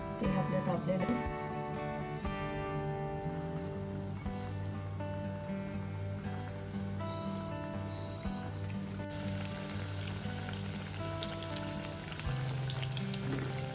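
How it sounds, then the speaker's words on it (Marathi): Bread rolls fry in hot oil in a kadhai over high gas, making a steady close sizzle with crackling bubbles that continues evenly, with faint tones in the background. "गोल्डन ब्राऊन होईपर्यंत आपण हे तळूया"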